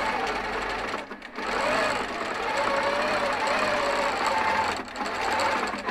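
Sewing machine basting a stitch on a piece of test fabric, a steady close whirring run with two short pauses, over a low background hum.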